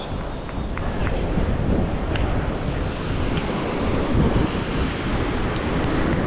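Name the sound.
waves and wind on the beach at Playa del Carmen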